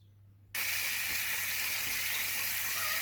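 Water gushes steadily into a container for a portable shower setup, starting abruptly after a brief quiet moment and continuing as a loud, constant hiss with a low electrical hum beneath.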